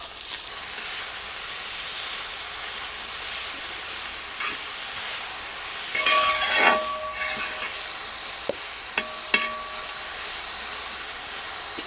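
Four large onions sautéing with salt in a pan for beef fry, a steady close hiss of frying broken by a few sharp metallic clinks of a spatula against the pan.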